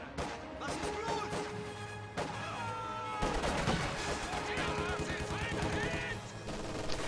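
MG42 machine gun fire in the Company of Heroes strategy game, rapid bursts of gunfire mixed with other battle noise, explosions and game voices, continuous and dense throughout.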